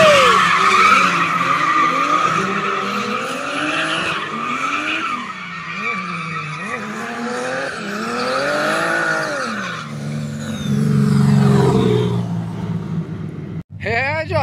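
Cars drifting at a Japanese drift school, tires skidding and squealing in long sustained screeches with engine roar, loud and close, while people talk over the noise.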